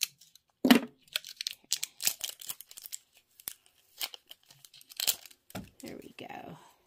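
Scissors snip through the tight wrappers on fabric pieces for a mini quilt block, making sharp close clicks and snips mixed with papery crinkling and tearing, while a person talks over them.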